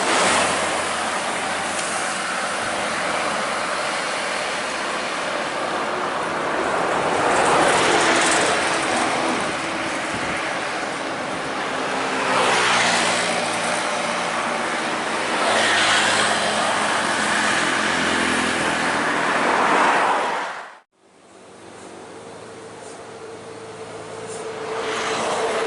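A Sempati Star intercity bus on the Medan–Jakarta route drives along a straight road with a broad, steady engine and road roar that swells and fades, then drops off abruptly near the end.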